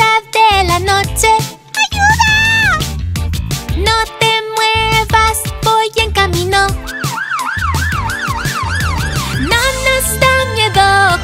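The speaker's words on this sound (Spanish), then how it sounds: "¡Camión de bomberos, sí!" A wailing fire truck siren rises and falls over busy, dense music of a children's song, its sweeping pitch cycling several times loud and close.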